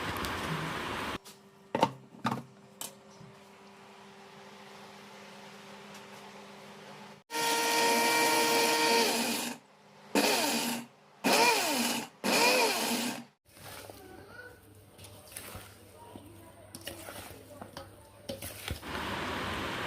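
An electric blender grinds spices for a homemade mango pickle in loud, close bursts of whirring. The bursts are separated by short pauses, and quieter handling noises come in between.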